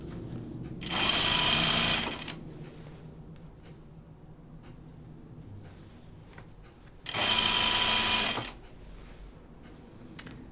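A sewing machine stitching a tunic hem runs in two short bursts of about a second each, a steady close whir with quiet handling and fabric sounds in the pauses between.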